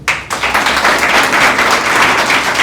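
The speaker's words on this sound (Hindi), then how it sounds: "विकास के लिए अब जाकर के आप ताली बजा सकते हो" An audience claps together for a selected police sub-inspector candidate named Vikash, a dense, steady roll of applause that starts after a brief pause and stays loud and continuous, with no voices over it.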